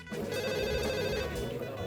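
Telephone bell ringing steadily and loudly at an emergency 112 police call-reception centre, a continuous electronic ring filling the short moment with no talk over it.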